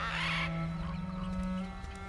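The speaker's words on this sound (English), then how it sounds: "Bird." A bird honks in God of War Ragnarok: a loud, sustained goose-like honk holds for about a second and a half near the listener, over the game's steady ambient drone, with no talk.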